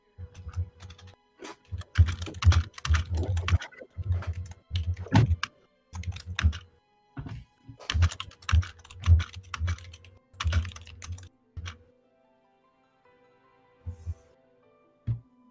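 Computer keyboard keys clack in quick, close bursts of typing with short pauses between runs, ending in near silence.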